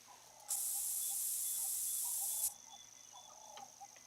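Scent spray in the hunting game Call of the Wild, spritzed in one steady two-second hiss from a tree stand, with faint birdsong and forest ambience around it.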